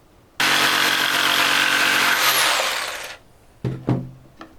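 A power saw cuts through the end of an old wooden broomstick in one loud, steady whining burst of about three seconds, followed by a few sharp knocks as pieces are handled.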